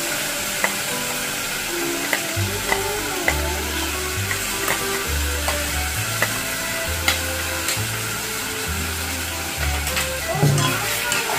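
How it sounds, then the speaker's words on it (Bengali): Ground onion, ginger and garlic paste fries in a pan for an egg omelette curry, with a steady close sizzle broken by repeated scraping stirs and occasional clinks of the spoon. "এবারে আমি এর মধ্যে দিয়ে দিচ্ছি যে পেঁয়াজটা বেটে রেখেছিলাম, পেঁয়াজ আদা রসুন বেটে রেখেছিলাম,"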